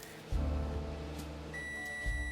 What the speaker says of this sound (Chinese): 再放回微波炉里40秒，一样600瓦就可以了